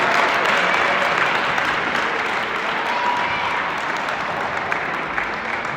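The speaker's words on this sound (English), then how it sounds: "Let's clap it up for Joey." A crowd at a senior night recognition ceremony claps for a departing player, producing a continuous, even wash of applause throughout, with no break or build.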